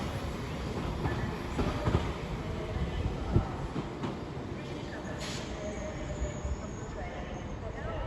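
A Class 197 train, unit 197 122, pulls out of Crewe station on the West Coast Main Line. It gives a steady, fairly loud rumble with rail noise and a few brief squeals and clatters, while voices talk over it.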